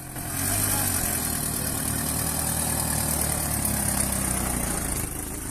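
Vintage EMI Matisse collector car at a classic car gathering, its old engine running steadily and loudly close by with a low rumbling idle that continues throughout, no voices.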